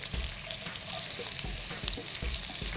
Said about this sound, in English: you can put the heat up just a little bit and then stir in your vegetables